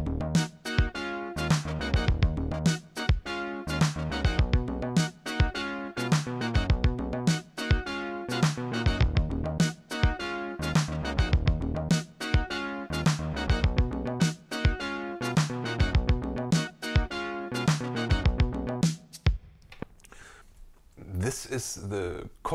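Korg Wavestate synth patch recreating the verse sound of an 80s pop hit, playing a busy rhythmic pattern of punchy stabs and bass notes, loud and steady for about nineteen seconds before fading into a sparse tail.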